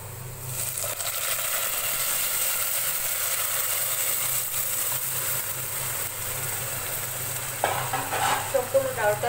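Lentils being stirred into frying food in a pan, a steady close sizzle and scraping throughout, with a few sharper stirring clatters near the end; no talking.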